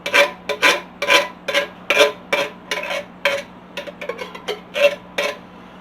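A utensil scrapes sauce out of a can in quick repeated strokes, a rhythmic rasping metal scrape about twice a second, close and clear, with no one speaking.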